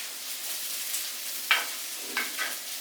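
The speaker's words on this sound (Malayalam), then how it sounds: "വളരെ ലോ ഫ്ലെയിമില് പെരിയെ ഇളക്കി നമുക്കിതൊന്ന് റെഡിയാക്കി" Raw turmeric curry is stirred in a pan over a low flame. A soft, steady sizzle runs throughout, broken by two or three brief scraping strokes of the spoon, with no talking.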